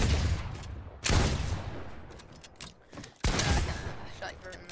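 Two sharp gunshots ring out a couple of seconds apart in a shooter video game, each trailing off in a long echo, with lighter clicks and faint voices between them.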